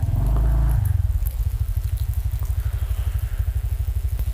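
A motorcycle engine idles close by, a loud rough blast at first that settles into a steady rapid putter of regular pulses.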